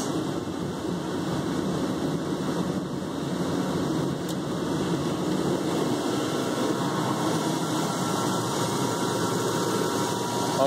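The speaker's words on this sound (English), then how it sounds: "There's a truck idling." A Chevrolet Tahoe's engine rumbles low and idles continuously with a new radiator fitted, an even mechanical hum and no voices.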